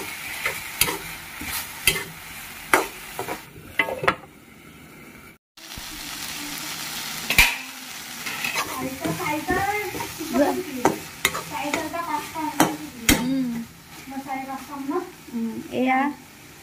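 Dried fish stirred and sizzling in a pan during Sunday lunch cooking, with scraping stir strokes and steady frying hiss, a voice talking over it throughout.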